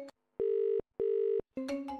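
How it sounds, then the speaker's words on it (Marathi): A phone rings with an incoming video call, sounding two steady electronic tone bursts with short gaps between them, close and clear, followed by a brief jumble of other tones. "अहो आईंचा व्हिडिओ कॉल येतोय"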